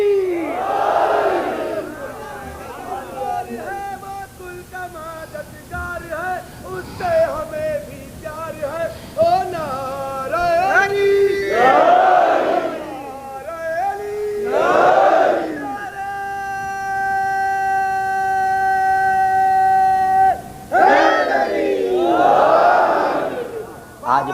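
A crowd at a religious sermon roars the Nara-e-Haidari slogan in repeated loud, massed shouts, broken by a lone man's sustained, sung call.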